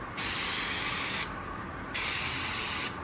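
A paint spray gun hisses out two steady bursts of a coverage coat, each about a second long with a short pause between, close and fairly loud.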